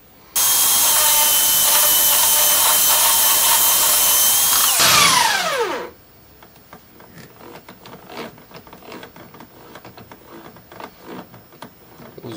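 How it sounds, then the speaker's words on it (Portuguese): A power drill runs at a steady high whine for about five seconds while enlarging a hole in a wooden tool handle, then spins down. Faint clicks and handling noises follow. "Você pode muito bem agora aumentar o furo para você colocar a ferramenta que você tiver interesse em pôr."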